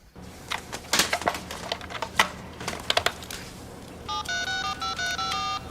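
A computer modem dialing up: a few scattered clicks and taps, then a steady run of bright electronic dialing tones stepping between pitches for the final couple of seconds.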